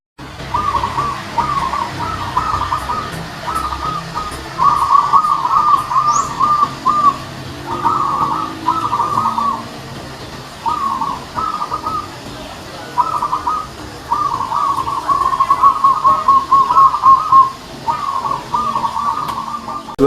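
A perkutut, or zebra dove, gives repeated rhythmic cooing phrases in a long series with short gaps between them. The bird sounds close and clear against quiet background noise.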